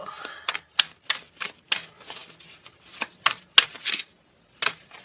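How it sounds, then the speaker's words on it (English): Tarot cards are shuffled in a run of sharp, papery riffles and taps with brief gaps between them, close and fairly quiet, with no voices. "I know the shuffling can be annoying sometimes"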